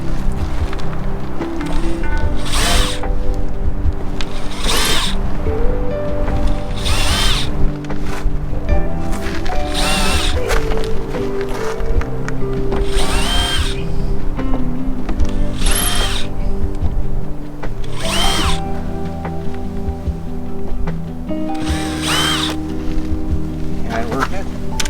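A power drill bites briefly into the body of a Land Rover Defender 110 in repeated short bursts, each a few seconds apart, over a steady mechanical hum in a workshop setting.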